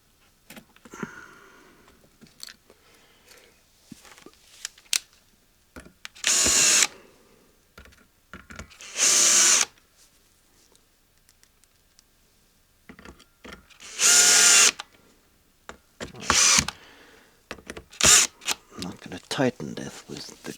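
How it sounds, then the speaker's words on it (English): A power drill drives a screw into a homemade motorized Christmas music box in several short, loud whirring bursts, with quiet handling clicks between them and a voice talking in the background. "Tighten this with the drill"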